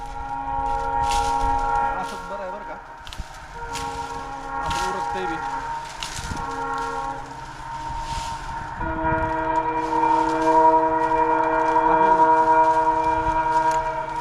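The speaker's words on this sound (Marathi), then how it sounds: "सकाळ सकाळ रेल्वेचा आवाज तरी एवढा येतो" A train passes near a house in the morning, rumbling steadily with long sustained tonal horn blasts and a grinding mechanical drone that swells louder toward the end.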